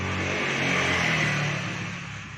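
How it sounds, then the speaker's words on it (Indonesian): A carbureted Honda Beat motorcycle engine holds an unstable high idle, a steady droning hum that swells slightly midway and then sags, heard up close and alone. "Kalau mau di langsam nggak mau stabil, masa langsamnya putaran mesinnya kepingin tinggi terus"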